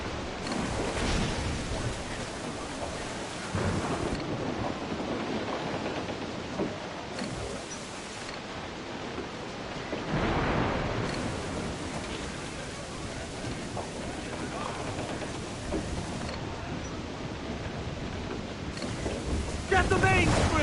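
A stormy squall at sea in Assassin's Creed IV: Black Flag, with roaring wind, crashing waves and creaking ship noise in steady gusts, surging louder at moments, while distant shouted voices come and go over the din.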